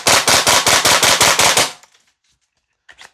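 An HK UMP .45 gas blowback airsoft rifle (VFC/Umarex) fires a loud, sharp string of about eight rapid shots, then silence, then a faint short burst near the end.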